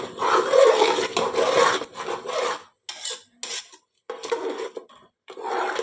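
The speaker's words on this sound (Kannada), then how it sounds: "ಚೆಂದ ಮಿಕ್ಸ್ ಮಾಡಿಕೊಳ್ಳಿ" A utensil scrapes and rubs repeatedly through a thick masala paste in a pan, in uneven strokes broken by brief pauses.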